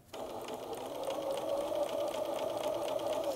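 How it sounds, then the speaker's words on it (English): A sewing machine runs a continuous stitching burst along the fabric edge at a 5/8 inch seam allowance, its fast, even mechanical whir close and steady from start to finish. "And we're going to just keep sewing until we get to the next edge."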